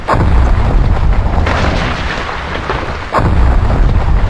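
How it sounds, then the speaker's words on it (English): Volcano eruption in the Roblox game Survive the Natural Disasters, heard as a loud, continuous rumbling roar with deep booming surges, one near the start and another sharp surge near the end, with no talking. "I didn't know the volcano would destroy sand."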